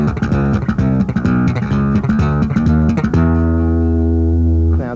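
Bass guitar slapped in a thumb, snap, thumb pattern, a steady triplet groove of punchy thumbed low notes and bright popped strings, ending on a sustained low note ringing out alone.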